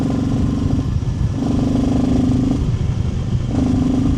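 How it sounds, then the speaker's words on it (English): A motorcycle engine rumbles steadily nearby, with a low droning tone that swells in a few repeated pulses across the whole stretch. "you have a little bit of the sound of the engine of the motorcycle"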